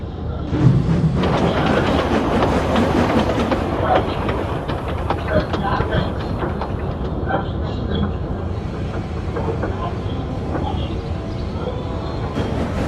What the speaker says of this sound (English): And with that, James started the train